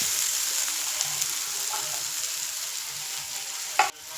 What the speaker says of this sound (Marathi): आता यात आपण अंडी घालून घेऊ